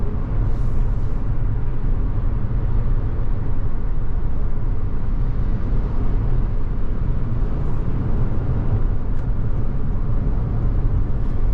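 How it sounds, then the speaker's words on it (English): Inside a 2023 Toyota Venza XLE cabin at highway speed, a steady, loud broadband roar of wind and tire noise continues without a break, with no talking. "let you hear what it sounds like in the cabin when you're up on highway speed regarding wind and tire noise"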